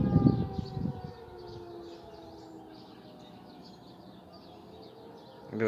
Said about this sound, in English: tornado siren testing.